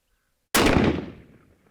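A single .22LR rifle shot cracks sharply at an outdoor shooting range after a moment of silence, then decays quickly with a short tail.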